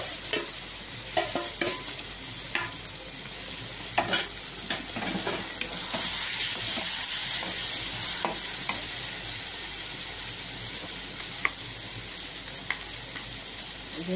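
Taro paste and garlic paste frying in hot oil while being stirred, a steady sizzle with intermittent scraping clicks of a utensil against the pan, close and continuous.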